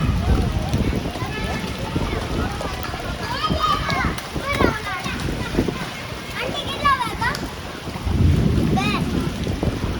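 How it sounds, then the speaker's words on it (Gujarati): Strong wind gusting outdoors during heavy rain, buffeting the microphone with a loud, rumbling roar, while voices shout and chatter throughout. "અને પવન પણ બહુ જ છે અહીંયા."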